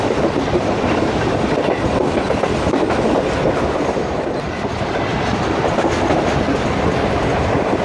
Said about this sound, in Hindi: खूबसूरत कर्व लेते हुए ट्रेन, वाह जी वाह।